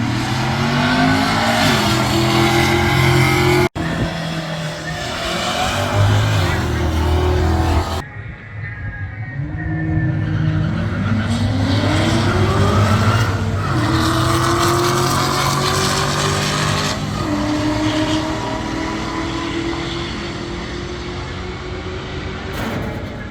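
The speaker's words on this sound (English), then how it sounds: "we decided to sit back and watch some drag racing to finish off the event" Drag racing cars at a Power Tour event roar past loudly, with engines revving and rising in pitch through long, sustained runs, one after another.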